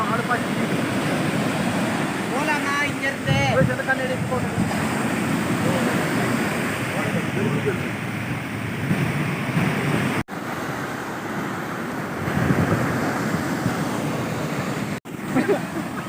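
Sea waves and wind at a Chennai beach, a constant loud roar of surf with wind buffeting the microphone and brief voices in the background.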